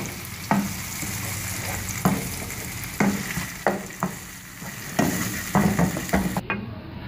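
Spinach paste frying in a pan for palak paneer as a spoon stirs it: a continuous sizzle broken by about ten sharp scrapes and knocks of the utensil against the pan, alone and close.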